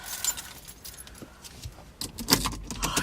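Keys on a ring with a large puffball keychain jangle and clink inside a bag, giving scattered metallic rattles that build into a louder burst near the end, close by and without speech.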